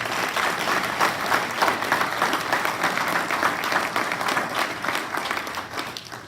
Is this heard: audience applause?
yes